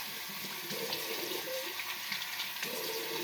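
Tap water runs steadily into a sink while a face is rinsed clean of pink facial foam, a continuous close splashing hiss with small fluctuations throughout.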